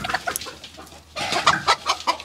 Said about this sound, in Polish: Kurczę, kury się biją,